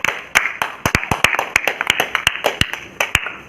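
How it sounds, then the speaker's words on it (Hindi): At a rural Bhojpuri comedy competition, a small group claps for a round winner. Loud, close, uneven hand claps come in quick succession for about three and a half seconds, with no talking over them. "तो तीसरे राउंड का दूसरे विजेता हुए अजय जी के लिए ताली।"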